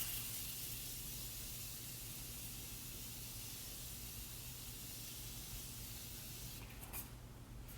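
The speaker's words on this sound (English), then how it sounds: "we're just gonna spray the shit out of your face." Morphe continuous setting spray mists onto a face as a long, steady, soft hiss that runs unbroken at close range, with a brief rustle near the end.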